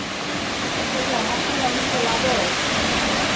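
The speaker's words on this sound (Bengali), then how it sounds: "আমরা পৌঁছে গেলাম জলপ্রপাতের সামনে। শব্দ শুনতে পাচ্ছেন," The Hundru waterfall near Ranchi roars as a steady, loud, broadband wash of falling water heard close up, continuous and unbroken throughout.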